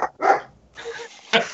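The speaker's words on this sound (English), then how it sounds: "Is the dogs outside are losing their mind again?" Dogs bark outside in a few sharp, separate bursts with short gaps between them, close enough to be clear and punchy, and no talk over them.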